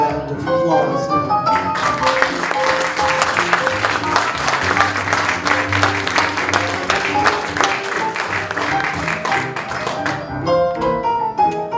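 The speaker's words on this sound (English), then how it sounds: "Let's give him a proper round of applause now." Audience applause with clapping and crowd noise rises over the close of a song, music still sounding beneath, then fades as the tune resumes.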